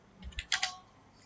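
A few quick keystrokes click on a computer keyboard while Python code is typed, close and light, a short cluster of taps with no talk.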